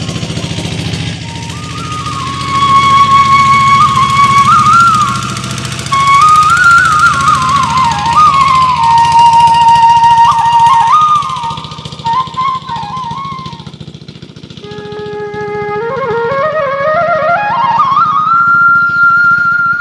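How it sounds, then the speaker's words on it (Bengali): A small trawler motors along a narrow river by a Padma char, its loud, steady chugging engine drone continuing for the whole stretch, with a wavering whistle-like tone rising and falling above it. "এই নদীতে আপনার এই যে ট্রলার ট্রলার যাচ্ছে"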